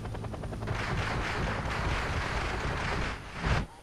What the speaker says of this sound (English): So this helicopter flies over.